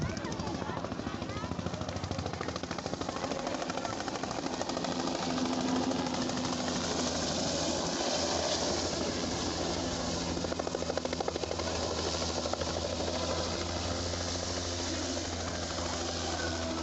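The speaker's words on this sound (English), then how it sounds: "the chopper was immediately called for a rescue mission" A Kenya Defence Forces military helicopter flying at an airshow, its rotor chop a continuous rapid pulsing thrum with engine whine, fairly loud throughout while a voice talks over it.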